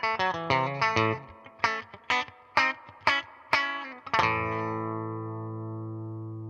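A vintage Telecaster electric guitar through a Foxy Tone Box octave fuzz pedal plays a quick run of plucked notes, then one final chord rings out and slowly fades.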